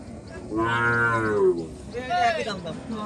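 Cattle at a village cattle market in Singra, Natore, where a Sahiwal bull is on sale, give two loud, drawn-out moos close by, one after the other, over faint crowd murmur.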